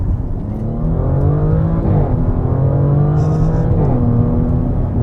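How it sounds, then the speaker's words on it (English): A supercharged 2023 Audi S7 engine roars loudly as it accelerates, revs climbing through gear changes with a steady supercharger whine underneath, close and continuous throughout. "That's the supercharger taking the place of waiting for the turbo to spool"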